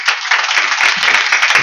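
A crowd at a devotional kirtan gathering breaks into a brief, loud burst of dense clapping, close and continuous from start to finish.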